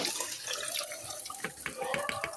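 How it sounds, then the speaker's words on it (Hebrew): Water pouring from a bowl into a pot of simmering vegetables and oil, a continuous splashing rush with gurgles and small drips, close and fairly loud throughout. "בשלב הזה אנחנו נוסיף את המים"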